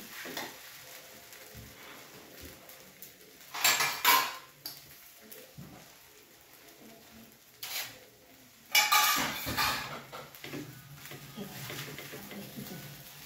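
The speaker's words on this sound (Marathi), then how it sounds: "आणि आता आपण डिशमध्ये काढून घेऊ" Sabudana khichdi being served from a pan into a dish, with a few loud scraping clinks of a spoon against metal in bursts amid quieter kitchen handling and a low background hum.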